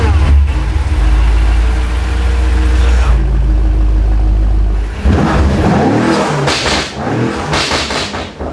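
BMW F90 M5 with a Dinan axleback exhaust and valve controller, the engine idling with a deep loud rumble before breaking into sharp revs that rise and fall in bursts near the car.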